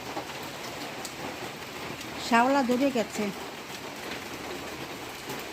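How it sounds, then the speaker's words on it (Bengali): Rain falls steadily on a rooftop as a broadband hiss that runs through the whole stretch, while a person speaks briefly near the middle over it. "পুরো বৃষ্টি হচ্ছে"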